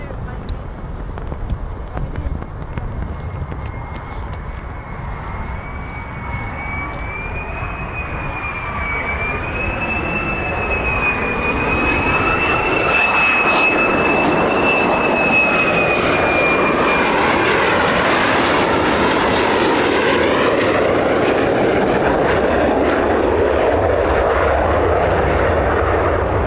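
A military jet, likely an F-15 or F-35, takes off at RAF Coningsby, its engine rising from a distant whine to a loud, sustained roar that builds and holds, with spectators talking faintly beneath.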